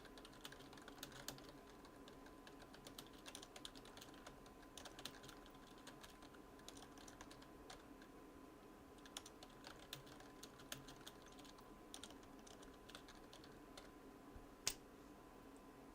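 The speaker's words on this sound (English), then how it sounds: "The clicking sound is artificial." Artificial clicking from a video game patters in quick, faint, irregular ticks like typing on a keyboard, steady throughout with no talking.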